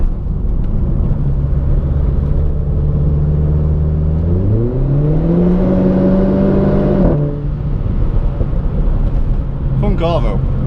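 A Renault Clio RS 200 EDC engine with ITG induction and centre resonator delete drones at about 6,500 rpm, then climbs sharply in pitch as it accelerates before dropping back, loud and close from inside the cabin.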